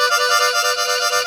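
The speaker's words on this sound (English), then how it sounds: "the shimmer, which could also be called a dirty split shake" Harmonica shimmer, a dirty split shake, as a sustained buzzing, wavering chord with a rapid tremolo pulse, played steadily and alone at close range.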